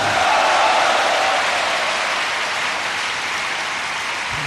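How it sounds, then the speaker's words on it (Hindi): An audience at a religious discourse claps loudly and continuously as a dense burst of applause that slowly eases off, with no talk over it. "एक और ताली बजा देता हूं।"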